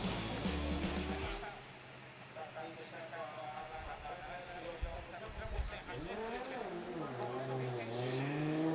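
Hokuto Matsuyama's newly built Cusco Racing GR Corolla drift car at a Formula Drift Japan event, its engine droning loud and near with rising and falling revs, under steady commentary talk.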